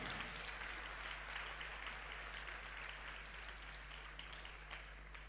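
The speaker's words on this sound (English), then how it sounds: "I think he deserves a huge round of applause." Steady applause from a crowd at an HR conference, continuous clapping heard over a low constant hum.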